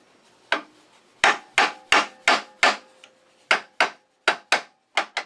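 Sharp wooden knocks from a wooden piece being tapped loose from a woodturning mandrel, a dozen loud close raps in an uneven rhythm, some paired, each ringing briefly.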